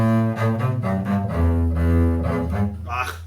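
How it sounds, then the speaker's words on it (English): Double bass played in an orchestra-instrument introduction, a run of bowed or plucked low notes with strong harmonics, close and loud, no talking. "But that's the sound of the bass."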